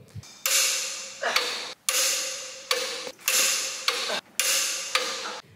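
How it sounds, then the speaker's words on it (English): A torque wrench clicks repeatedly while it tightens lug nuts on a trailer fitted with 15K axles. Broad, steady ratcheting bursts stand close and loud, each about a second long and broken by short gaps, with sharp clicks between them. "That click lets us know that we've achieved the torque pressure that we need."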